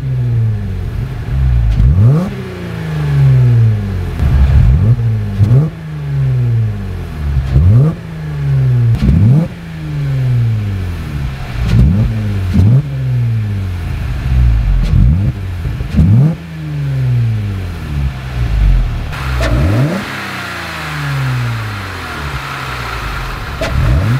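A Jeep with a new intake and exhaust revs repeatedly, each rise and fall loud and close, about every two to three seconds across the whole stretch, with no talking.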